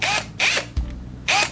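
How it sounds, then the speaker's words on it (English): A power drill's chuck is tightened with short ratcheting bursts, three quick buzzing pulses and a small clunk between them, up close with no talk. "I'm going to grab one, put it right on the chuck of my drill"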